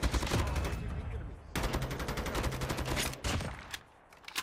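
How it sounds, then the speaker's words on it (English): Rapid automatic gunfire in Call of Duty Mobile battle royale: loud, close bursts of fast repeated shots with brief pauses between them, trailing off near the end. "Why are you shooting at us, bro?"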